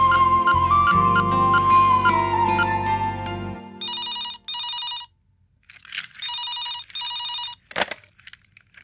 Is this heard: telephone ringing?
yes